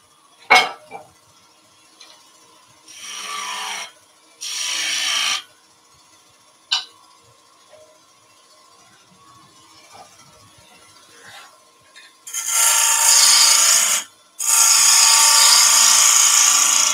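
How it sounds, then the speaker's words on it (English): Wood sanded on a turned piece spinning on a lathe, several loud bursts of abrasive hiss lasting a second or two each, separated by quiet gaps and a few sharp clicks. "Little bit of sanding."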